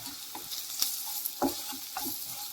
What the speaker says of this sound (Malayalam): ഇതെല്ലാം കൂടി ഇതിൻ്റെ പച്ചമണം മാറുന്നവരെ ഒന്ന് ഇളക്കി കൊടുക്കുക.